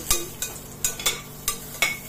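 Cashews, raisins, mace and bay leaves frying in a pan with a spatula, giving five or six evenly spaced scraping strokes close up over a faint background sizzle.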